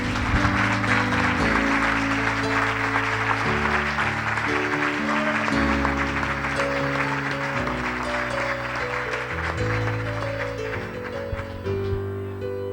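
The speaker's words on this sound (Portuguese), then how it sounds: "Vamos dar uma salva de palmas a Jesus." Church congregation applauding during a sermon, steady crowd clapping throughout with sustained organ or keyboard chords playing loudly underneath.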